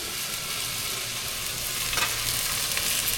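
Onions fry to golden brown in a pan in a village kitchen, a steady bright sizzle with occasional stirring scrapes, moderately loud and without talk.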